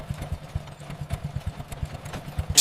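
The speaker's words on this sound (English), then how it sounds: "They replaced the hand crank with a gasoline engine" An early chainsaw's gasoline engine chugs in a rapid, regular putter of close, fairly loud pulses, idling with a slightly rough rhythm and no voices.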